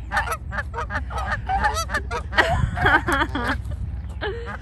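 Ducks near a hotel honk loudly and repeatedly in an overlapping, chattering burst, with a few breathy calls mixed in, close by and with no talk over them.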